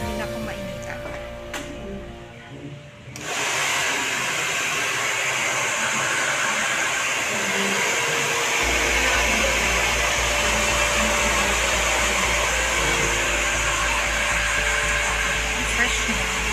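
A hair dryer blows steadily on freshly cut short hair, its broadband whoosh switching on after a few seconds and running loud and unbroken to the end, with a voice speaking faintly over it at the start.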